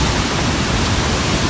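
A waterfall at Letchworth State Park in Mount Morris, New York, gives a loud, steady, unbroken roar of rushing water that fills the whole moment.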